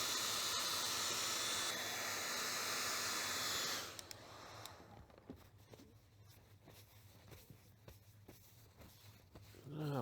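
A hair dryer blows a loud, steady hiss over painted clay Godzilla sculpture for several seconds, then switches off, leaving quiet handling clicks and soft taps.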